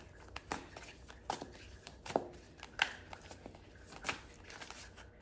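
Playing cards are handled quietly and close up, with a series of soft, crisp snaps and flicks spaced irregularly over a faint background.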